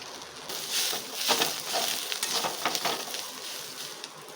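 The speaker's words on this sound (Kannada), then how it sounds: "ಮಸಾಲೆ ಉರಿತೆ ಅಂದರೆ ಹಾಗೆ ವಾಸನೆ ಗಮ ಗಮ ಅಂತ ಬರ್ತಾ ಇದೆ ಫ್ರೈ ಆಗೋಕ್ಕೆ ಐದು ನಿಮಿಷ ಹಿಡಿಯುತ್ತೆ" Masala spices sizzle steadily in a pan over a medium flame while cooking mutton biryani, a close, continuous frying crackle with brief stirring scrapes.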